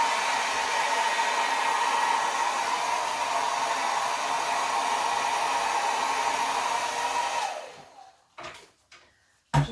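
A hair dryer blows across acrylic pour paint with a loud, steady whir for about seven seconds, then cuts off, followed by a few soft knocks and clunks.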